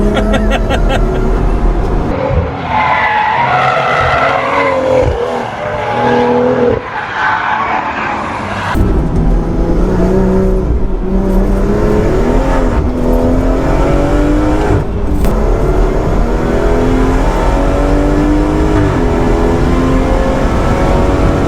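A 510bhp BMW M240i accelerates hard on a race track, its engine note sweeping up and down through repeated gear changes, with tyre squeal and skidding noise, loud and close throughout.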